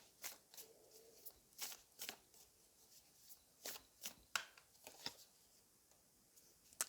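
Quiet, crisp riffling of playing cards being shuffled repeatedly in short bursts, close up, with no talking.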